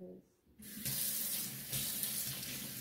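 A water tap runs steadily from a faucet into a sink, rinsing a freshly repotted Cattleya orchid and its bark mix; a continuous splashing stream starts abruptly after a brief quiet moment and stays loud and close.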